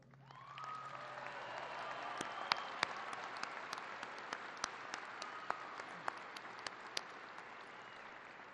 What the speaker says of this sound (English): please join me again in a round of applause for our servicemen and women